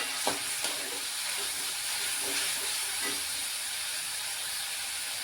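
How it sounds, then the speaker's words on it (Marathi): Onion fries in a pan with a soft, steady hiss and sizzle that stays fairly quiet. A few faint utensil taps come early on, and there is no talking. "कांदा आहे तो पण छान भाजलाय"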